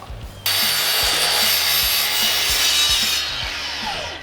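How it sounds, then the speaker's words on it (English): A loud miter saw whines and grinds as it cuts through its own fence, a harsh continuous roar with rhythmic low thumps underneath, close by. "you can hear the exact moment that I cut through the fence on my miter saw"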